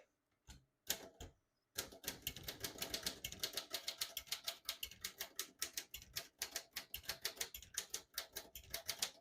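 A 1937 Royal Model O portable typewriter being typed on: a few isolated key strikes, then a steady, fast run of crisp mechanical clacks close to the microphone, with no voices.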